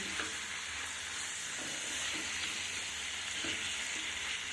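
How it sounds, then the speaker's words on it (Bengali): Marinated chicken fries in a pan on low heat, giving a steady, even hiss and sizzle throughout with faint occasional soft pops and no talking. "এখানে বসিয়ে দিয়েছি চিকেন ফ্রাই এই যে তখন ম্যারিনেট করে রেখেছিলাম সমস্ত কিছু দিয়ে এখন ওটাকে ফ্রাই বসিয়েছি"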